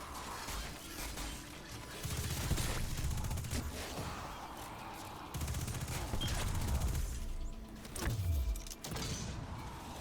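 Thunderlord machine gun fire in Destiny 2 plays as dense rapid bursts with explosive impacts in gameplay, moderately loud and broken into several stretches of sustained shooting.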